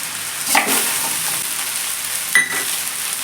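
Paneer fried rice stirred in a hot pan, a steady soft sizzle with two sharper scraping strokes of a spatula, no talking.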